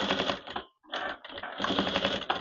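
A sewing machine stitches a half bent shirt collar in rapid mechanical bursts, stopping briefly twice before running on, close up and with no voices.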